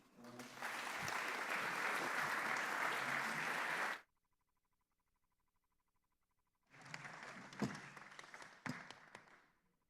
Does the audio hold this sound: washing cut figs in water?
no